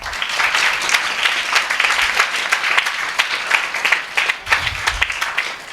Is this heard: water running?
no